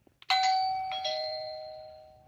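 A Wyze Video Doorbell Pro indoor chime rings after its button is pressed: a clear two-note bell tone that decays slowly over about two seconds, preceded by a faint click, fairly quiet and alone.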